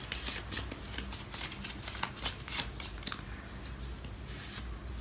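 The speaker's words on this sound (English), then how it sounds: "Let me just shuffle it for you." Rapid riffling and snapping of tarot cards being shuffled, a few quick bursts in a row, close and fairly crisp, with no talking.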